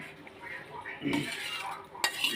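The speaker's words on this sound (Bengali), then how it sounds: "এইবার সিদ্ধ করা ডাল ছিল ডালটা দেওয়া হচ্ছে" Boiled masoor lentils poured into a pot of khichuri with a brief metallic clink and soft wet pouring and stirring, close and moderately quiet, with a sharper knock near the end.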